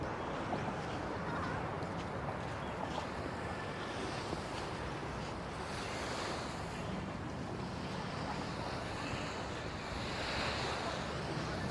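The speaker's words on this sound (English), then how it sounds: "Naminoe Beach, the man-made beach here in Naha, Okinawa." Surf washes in at Naminoe Beach, a man-made beach in Naha, Okinawa, as a steady, hissing roar with gentle swells, mixed with wind buffeting the microphone.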